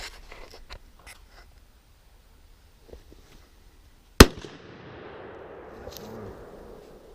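A single sharp, loud 6.5 Creedmoor rifle shot strikes a Master lock, cracking out once mid-clip after quiet scattered handling sounds, followed by a long decaying rumble and ringing tail.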